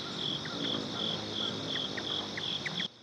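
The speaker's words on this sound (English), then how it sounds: "I hear some crickets this morning," Crickets chirping outdoors in a backyard in the morning, a steady high-pitched pulsing trill repeating evenly, with faint bird chirps scattered through it before it cuts off abruptly.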